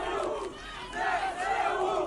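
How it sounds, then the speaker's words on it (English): A crowd in newly liberated Kherson chants loudly for Ukrainian soldiers, voices rising and falling in a steady, rhythmic roar that fills the space throughout. "Ukrainian soldiers were given a hero's welcome as the crowd chanted for the military."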